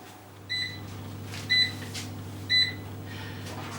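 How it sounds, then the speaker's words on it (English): A kitchen timer being set for baking gives three short, evenly spaced electronic beeps about a second apart, clear and close over a faint low background hum. "So that's my timer for 12 minutes."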